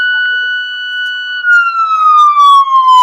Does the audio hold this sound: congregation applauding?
no